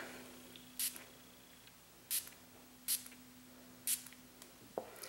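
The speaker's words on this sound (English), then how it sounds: "it just catches the mist of spray" Four short hissing spritzes of a spray bottle misting water, evenly spaced and close by, over a faint steady hum.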